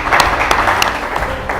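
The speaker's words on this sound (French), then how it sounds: "On applaudit s'il vous plaît." Brief burst of audience clapping at a cooking competition show episode, a short uneven patter of hands lasting under two seconds, fairly loud and close.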